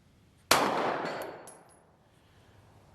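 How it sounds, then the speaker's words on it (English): A 9mm bullet from an S&W CSX micro compact pistol strikes a steel gong target: one sharp loud metallic clang that rings out and fades over about a second. "hit the gong, first time all day"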